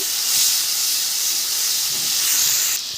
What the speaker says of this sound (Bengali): 5 ফোড়ন লাল হয়ে গেছে, দিয়ে দেব রসুন। রসুনটা 1 মিনিট মতন ভেজে নেব।